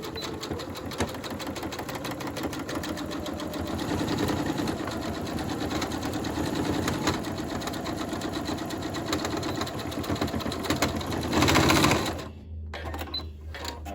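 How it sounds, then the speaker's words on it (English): A sewing machine sews a straight stitch on fleece for a cap, running loud and continuous with a rapid, even needle rhythm, then stopping abruptly near the end. "Now we're going to be stitching a straight stitch right here."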